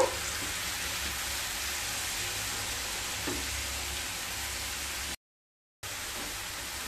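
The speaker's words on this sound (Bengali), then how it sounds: "সেই সময় গ্রেট করে রাখা মূলোগুলোকে দিয়ে দেব। এবার নেড়ে নেব।" Grated radish stirred in a hot pan, frying with a steady broadband sizzle that stays loud and even throughout, with a couple of soft stirring scrapes and a brief dropout near the end.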